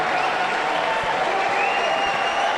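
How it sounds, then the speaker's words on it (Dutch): Stadium crowd applauding a departing Fortuna Sittard football player during a match against APOEL Nicosia, a steady broad wash of clapping and crowd noise filling the whole stretch at even loudness. "Maar in ieder geval een zeer warm applaus voor Mohamed Iataren"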